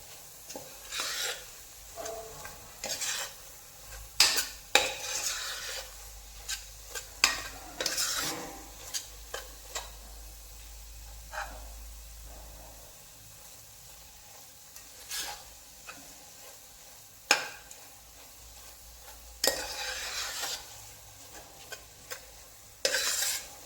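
A spoon scrapes and stirs turmeric and red chili masala in oil in a pan over low flame, giving intermittent gritty rubbing strokes and soft clinks with a faint sizzle underneath, as part of making goat head curry.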